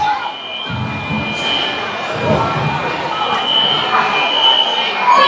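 A fire alarm sounds inside a hockey arena during a minor hockey semi-final game, a steady high electronic tone running throughout beneath crowd murmur and scattered shouts.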